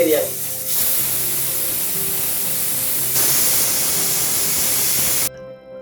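Mutton hitting hot oil in a pan, a loud close hissing sizzle that surges partway through, then cuts off abruptly near the end.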